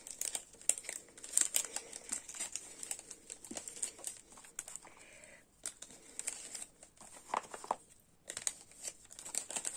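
Close, crisp crinkling and rustling of paper in repeated short bursts, irregular handling noises with no talking.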